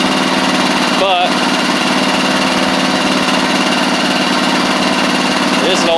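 Old Huskee Supreme riding mower with its small engine idling, a steady close buzzing drone with a constant pitch, briefly overlaid by faint squeaky sounds.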